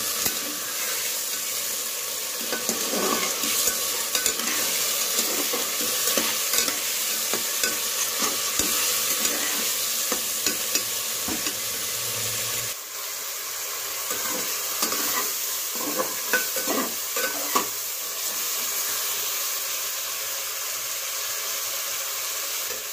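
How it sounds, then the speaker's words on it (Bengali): Spices for a railway-style mutton curry sizzle in a pan with a little water added. A steady hiss runs throughout, and close stirring scrapes and clatters sound in bursts. "মশলাগুলো যাতে পুড়ে না যায় তার জন্য আমি অল্প একটু জল অ্যাড করলাম"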